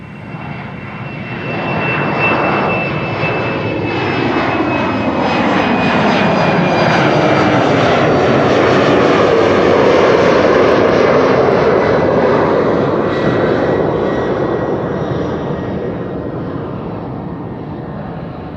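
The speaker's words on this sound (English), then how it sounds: "Another departure, KLM flight 1151 to Trondheim. Another Embraer" A KLM Embraer 190 jet takes off from Schiphol's Kaagbaan runway, its engines rising to a loud, steady roar that sweeps past close by, alone and without voices, and then slowly recedes.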